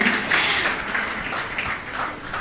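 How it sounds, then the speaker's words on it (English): A graduating BArch batch receives applause at a college convocation ceremony, a dense, steady wash of many hands clapping together, sustained and moderately loud throughout. "I would like some applause for yourself here."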